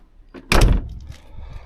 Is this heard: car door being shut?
yes